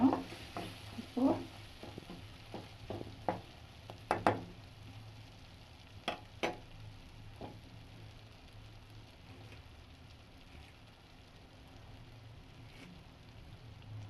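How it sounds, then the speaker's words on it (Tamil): Tamarind, tomato and radish frying in oil for radish chutney, a soft, steady sizzle with a few louder stirring clicks and pops early on, quiet and alone. "இப்போ இந்த புளி சேர்த்து ஒரு நிமிஷம் சும்மா அந்த எண்ணெயில் நல்லா வதங்கட்டும்"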